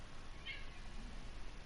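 A female house cat indoors gives a single short, high meow that sounds faint and distant over steady room hiss, with no one talking.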